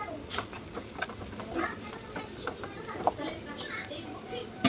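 Ginger garlic paste is stirred in a cooking pan for an egg tomato curry, with soft scraping and clinking strokes over a faint sizzle, quiet and close.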